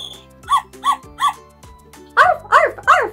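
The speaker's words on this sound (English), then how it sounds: "Ruff, ruff is the sound that the puppy makes." Recorded puppy barks from a picture book's sound button: three short yips, then three louder, higher barks in quick succession, clear and close with no talking.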